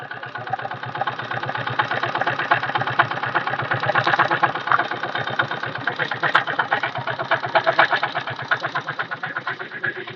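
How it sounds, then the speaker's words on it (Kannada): Vehicle engine with a fault, running with a fast, uneven knocking rattle from the pistons, close and steady throughout with slight pulsing in loudness, alone without talk. "ಇವಾಗ ನಿಮಗೆ ಇಂಜಿನ್ ಸೌಂಡು ಕೇಳಿಸ್ಕೊಳ್ಳಿ."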